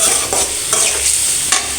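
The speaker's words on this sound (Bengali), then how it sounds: "কলাটা দিয়ে দিলাম, এখন কষিয়ে নেব।" Plantain curry with spices and prawns sizzles loudly in a pan while a utensil scrapes and stirs it in a few strokes, and no voices are heard.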